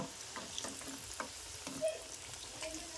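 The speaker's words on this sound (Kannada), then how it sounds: "ಚಂದ ಸ್ವಲ್ಪ ಕೆಂಪು ಕಲರ್ ಬರೋವಂಗೆ ಫ್ರೈ" Food frying in a kadai, a steady oil sizzle with soft ticking pops and occasional stirring clicks, close and fairly quiet, with no talking.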